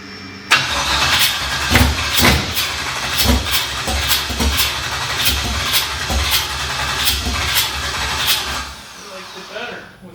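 A GM LS V8 with backwards-flowed cylinder heads runs close by, a loud throbbing rumble punctuated by a string of sharp rhythmic revs or pops, easing off near the end.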